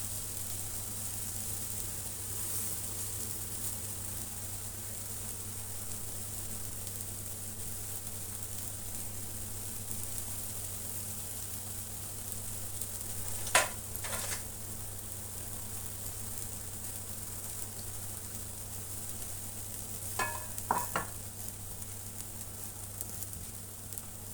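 Cheese-filled meatballs sear in a hot pan with a steady, quiet sizzle over a low hum, broken by a couple of brief clatters from stirring or turning.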